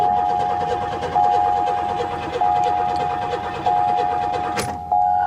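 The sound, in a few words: burnt Ford Mustang GT engine cranking but not starting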